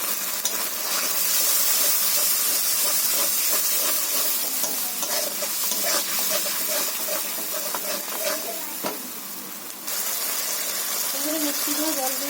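A pan of food fries and hisses after turmeric powder goes in, with continuous sizzling, steady stirring scrapes and steam; a voice speaks faintly near the end.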